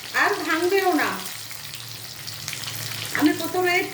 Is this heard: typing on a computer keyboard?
no